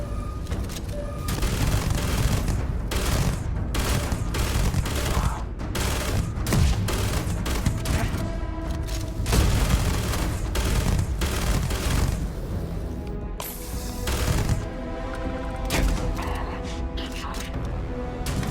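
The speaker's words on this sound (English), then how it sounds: "Like, yes, I'm shooting you in the ankles." Rapid gunfire in the space shooter Starfield, played with the Dark Star overhaul and ZSW Tartarus mods, crackles in dense bursts almost without pause, with heavy booms and mechanical clatter, while someone talks over the shooting.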